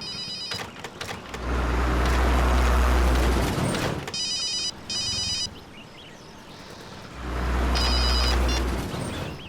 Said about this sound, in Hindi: ओह नो, मॉम का ही फोन है।